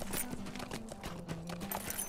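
Horse hooves clip-clop at a steady riding pace in the Lord of the Rings Online video game, a continuous rhythmic trot over a tonal background hum, with no talking.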